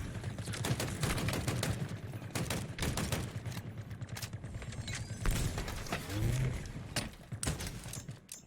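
Machine gun fire in the Halo Infinite video game, rapid repeated bursts of shots mixed with mechanical clatter, moderately loud, with short pauses between volleys.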